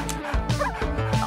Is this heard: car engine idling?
no